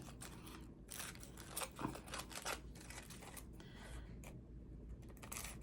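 Small scissors snip around the edges of an altered playing card for junk journal ephemera, giving quiet, close, irregular clicks and crisp paper cuts.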